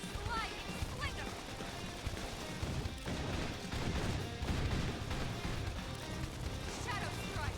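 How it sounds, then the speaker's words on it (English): Gunfire during combat in the video game Xenoblade Chronicles X, bursts of shots and impacts layered with battle noise, music and character voices speaking over the action. "Try toppling it with gunfire."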